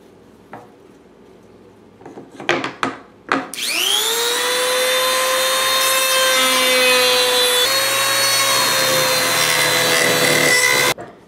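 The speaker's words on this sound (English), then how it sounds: "When you're finished sanding everything down, it's going to look a little bit like this." A few light knocks, then a rotary power tool whirs up to a high, steady whine as it sands a TPX pistol part, running continuously until it stops.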